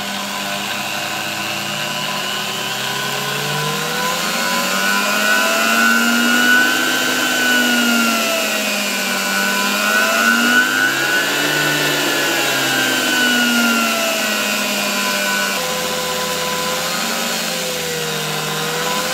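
A Zelmer type 300 vacuum cleaner motor running on its own, removed from the cleaner; steady close whine with harmonics slowly sliding up and down in pitch, a slight shift partway through, sustained for nearly twenty seconds without speech.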